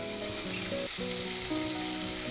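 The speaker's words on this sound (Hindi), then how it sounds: "जैसे ही घी गरम हो जाए इसमें हम पनीर डालेंगे" Grated paneer fries in hot ghee with a dense, continuous sizzle, close and steady, over sustained background music and no speech.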